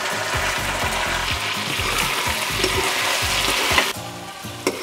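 Boiled prawns frying in hot oil with onion masala, a steady loud sizzle with rhythmic scraping and stirring knocks of a spoon against the pan throughout.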